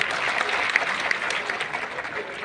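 An audience at a live outdoor comedy show at the Firozabad festival claps in dense, loud, sustained applause across the whole stretch.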